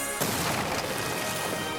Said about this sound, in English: And now you get the explosion